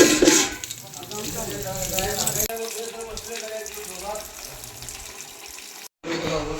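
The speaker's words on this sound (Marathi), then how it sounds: "देवाला जाण्याच्या आधी पाय धुवून घेऊया" Running water splashes as feet are washed at a temple before going inside, a steady tap-like flow with changing splashes. Voices talk in the background, and the sound cuts off sharply near the end.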